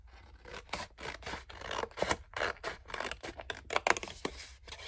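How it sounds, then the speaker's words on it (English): Scissors cutting through a paper Valentine's card, producing a close, rapid series of crisp snips and rustling paper slices that continue steadily, with no voices. "Okay, I'm going to cut it."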